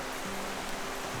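Heavy rain pours steadily as a dense, even wash of noise with no clear gaps, during a stormy overland camping trip in the Philippines between General Santos and Davao.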